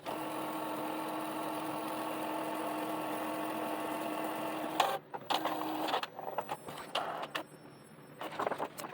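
A printer running continuously while printing sublimation transfer papers, a steady loud whirring drone that then breaks into intermittent clicks, pauses and short mechanical bursts as the sheets feed through.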